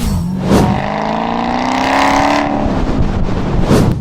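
A Dodge Hellcat engine hums steadily at close range from inside the car while driving, its low tone rising and falling slightly with throttle across the whole stretch.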